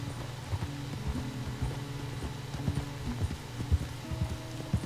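Horse hooves clip-clop in a steady, rapid rhythm as a horse is ridden in the video game Red Dead Redemption 2, close and clear with no talk.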